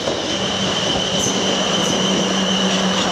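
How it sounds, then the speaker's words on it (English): A train pulls into a station, a steady rumbling roar with the high squeal of wheels and faint rail clatter, loud and continuous throughout, with no talking. "Train pulls in."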